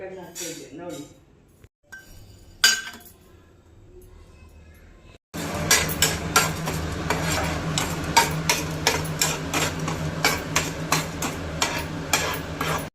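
Steady crackling sizzle of mustard seeds, chana dal and urad dal tempering in hot oil fills the second half, close and busy; earlier, quieter clinks and stirring sounds.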